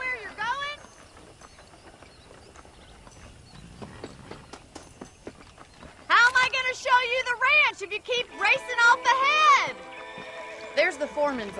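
Red Dead Redemption game audio with hoofbeats clopping, then bursts of horse whinnies and neighs that grow loud in the second half, layered over faint background sounds.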